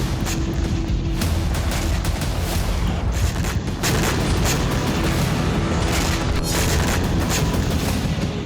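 A deep, continuous rumbling roar of a Russian FAB-3000 bomb explosion in Ukraine, loud and sustained, with crackling bursts layered over it and no voices.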